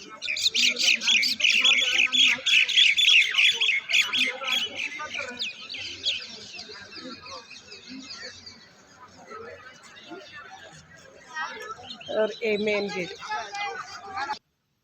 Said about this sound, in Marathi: साळुंक्यांचा आवाज होता एकदम असं छान किलबिल चालू होतं साळुंक्याचं